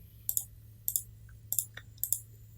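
Computer mouse clicking at a desk during embroidery design software work, in four quick pairs of sharp, close clicks with short pauses between them, alone over a faint steady hum.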